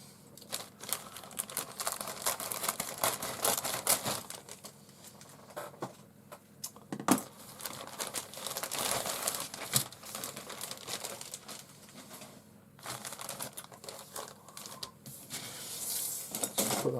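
Crinkly plastic bag holding Airfix 1/72 scale Bristol Blenheim Mk IVF model kit parts, handled and rustled up close, with steady crackling and crumpling that comes in bursts and short pauses.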